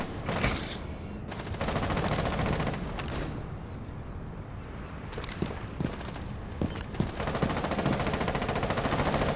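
Dense, sustained gunfire in a competitive five-stack shooter match, loud rapid shots running almost continuously with brief drops, a close and intense exchange with no clear talk.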